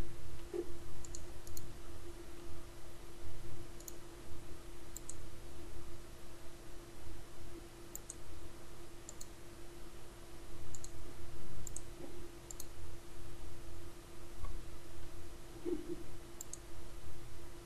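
Faint, sparse mouse clicks sound one at a time against a quiet hum on a computer running Microsoft Publisher, as a file is selected and opened.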